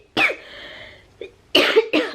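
A few harsh coughs from close by, from a person with COVID: a strong first burst, a faint short one, then two loud coughs in quick succession.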